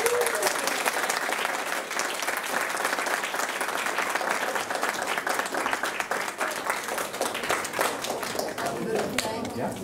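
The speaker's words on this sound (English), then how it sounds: "I'm so happy that you loved it and enough to give us a standing ovation" Sustained applause from a theatre audience giving a standing ovation, dense loud clapping filling the whole stretch, with a voice over it near the start.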